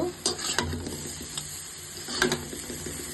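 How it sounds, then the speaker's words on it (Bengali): Carrot payesh with date palm jaggery stirred in a pan, giving a few close spoon scrapes and knocks over a soft sizzle and bubbling, with no talking. "এখন একটু নেড়ে দিব"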